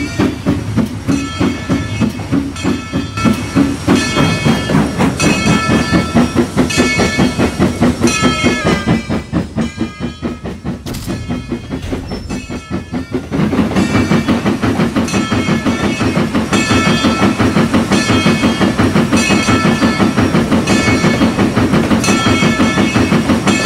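Denver & Rio Grande Western No. 14 steam train runs continuously and loudly at close range, with a steady rolling clatter and engine rumble, a brief dip in intensity near the middle, and no voices.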